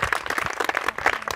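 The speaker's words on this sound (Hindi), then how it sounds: "ताली बजाओ इनके लिए।" Students clap together in a school classroom at an inter college in Azamgarh, giving a short, steady round of applause close by.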